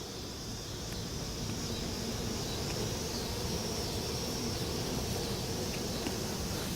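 Honeybees hum as a steady, dense drone throughout an open-hive inspection with brood frames exposed, close and continuous, with no talking.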